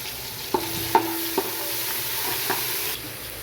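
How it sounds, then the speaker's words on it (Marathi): Asafoetida and a ginger-garlic-coriander paste fry in a pan: a continuous hiss with four or five sharp spoon taps spaced out across it, close and alone. "एक चमचा हिंग आणि आलं लसणाची कोथिंबीरची पेस्ट छान परतून घेऊ"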